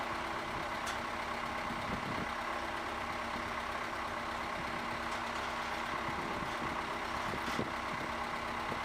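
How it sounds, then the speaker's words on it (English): A giant hydraulic mining excavator's motor, just started for the first time, idles with a steady, even mechanical drone at a moderate distance, with faint clanks now and then. "The dramatic moment arrives as the motor is started up for the first time"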